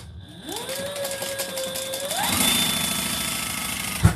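A sewing machine sews a one-eighth-inch base stitch on an Ellana bag, its motor whining up to speed and then running in a steady, rougher mechanical whir, ending with a brief knock.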